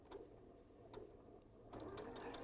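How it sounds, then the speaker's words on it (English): Sewing machine running steadily while stitching a quarter inch seam on a Moda Cranberries & Cream quilt, a low continuous mechanical whir with brief bursts, close and fairly quiet throughout. "So I've stitched that 1/4 inch seam."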